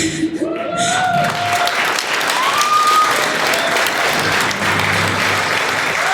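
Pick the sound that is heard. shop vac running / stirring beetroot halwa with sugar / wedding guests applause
wedding guests applause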